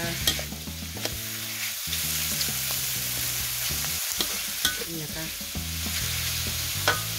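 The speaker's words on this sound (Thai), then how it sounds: "ใส่แครอทลงไปนะคะ ผัดลงไปนะคะ ใส่ลงไปแล้วก็ผัดนะคะ" Carrots stir-fry in a hot pan with a continuous sizzle, broken by rhythmic scraping and clanking of a spatula against the metal.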